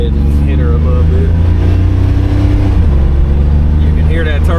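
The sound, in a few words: turbo spooling on a 1987 Buick Grand National accelerating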